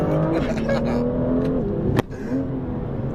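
A BMW M2 engine revs hard and loud while the car drifts, holding a steady high-revving drone with a sharp burst partway through before settling again.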